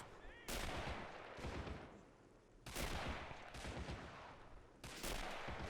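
Gunfire rattles across a WW1 battlefield in the video game Men of War Assault Squad: dense, loud bursts of rifle and machine-gun fire crackle in several waves, with sharp reports layered over continuous shooting.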